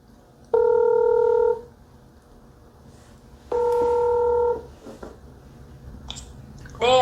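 Touch-tone telephone keypad dialing a lawyer's number: two long steady DTMF tones about a second each, separated by a pause, followed by faint clicks and a brief rising tone near the end, with no talking.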